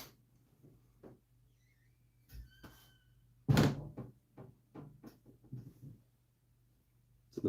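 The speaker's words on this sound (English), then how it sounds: "Somebody slamming the door of my house, making my tools rattle." A house door slams somewhere in a home woodturning workshop with a single loud thud, and tools in the shop rattle briefly. Scattered faint knocks and shuffling come before and after the slam.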